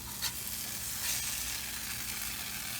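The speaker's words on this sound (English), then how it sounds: "So I'm putting a lot of pressure down on the cast iron, and I'm really scraping." Burger patties sizzle in a cast iron pan while being pressed and scraped hard, a soft continuous frying hiss with a few scraping accents, close and alone.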